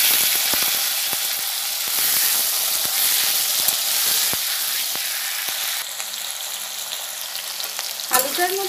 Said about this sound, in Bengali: এবার আলুগুলোকে আমি হালকা ভেজে নেব।